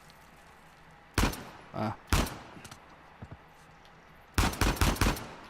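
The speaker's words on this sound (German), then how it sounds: "Ich probiere es jetzt gerade mal aus. Ob ich auf das Ding schießen kann." Gunfire rings out in Uncharted 4, with short loud bursts of automatic fire and scattered single shots separated by pauses, including a final rapid volley; a brief voice is heard.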